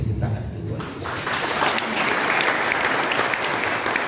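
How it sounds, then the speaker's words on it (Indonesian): A church congregation applauds during a sermon, a dense, steady wash of clapping that swells after the first second and stays loud and continuous, with some voices mixed in. "Kasih tepuk tangan untuk Tuhan."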